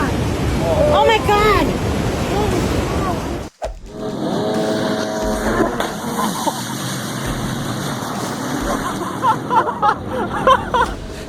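Large ocean waves crash amid strong wind at sea during rough weather, a heavy roaring wash with buffeting microphone wind, loud and close, while people shout and exclaim over it.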